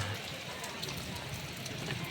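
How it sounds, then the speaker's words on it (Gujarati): Monsoon rain falling in a steady, faint hiss of drops on surfaces near a home, with a low murmur underneath. "વરસાદ વરસાદ"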